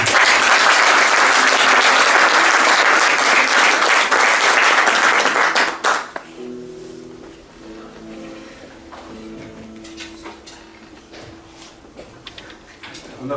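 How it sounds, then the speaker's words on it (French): Loud, dense applause from a concert audience after a nocturne performance fills the first six seconds, then falls away to scattered claps and low murmuring with faint tonal sound. "On applaudit bien fort."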